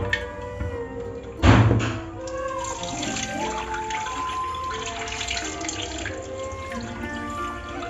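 Basmati rice is washed under a running kitchen tap, with a steady stream of water splashing into the vessel nearby and a brief thud of the pot near the start.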